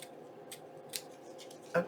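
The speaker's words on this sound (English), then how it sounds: "And then I'm just going to trim it off." Scissors snip through paper to trim a junk journal page tab, a few quiet, close cutting sounds ending in one sharper, louder snip.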